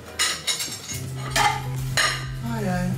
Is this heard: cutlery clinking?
yes